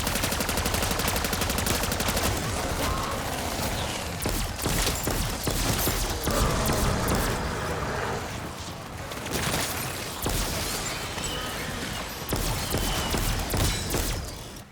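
A turret gun and a ray gun fire continuously in the Call of Duty zombies mode Terminus. The sustained rapid gunfire is loud and dense, with short breaks and bursts throughout.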